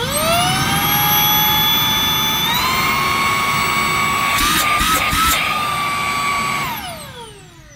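A Shark IF200 Duo Clean cordless vacuum cleaner runs with a loud, steady high-pitched whine and motor roar, briefly dipping in pitch midway, then spinning down as it is switched off near the end.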